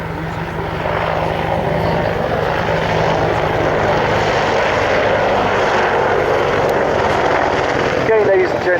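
A low-flying Apache helicopter banking through low-level manoeuvres, its steady loud rotor and engine roar filling the scene continuously while someone talks over it.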